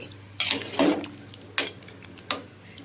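Limes for a Kerala-style lime pickle are stirred in a pot of hot water, with four sharp metal clinks and scrapes of a spoon against the pot over a quiet background.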